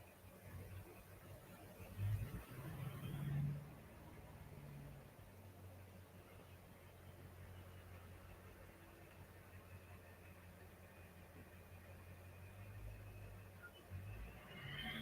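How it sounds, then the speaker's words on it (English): A heavy truck engine rumbles nearby, idling and revving low as it maneuvers slowly through a three-point turn in a cul-de-sac, with a brief louder surge early on. "Loud truck."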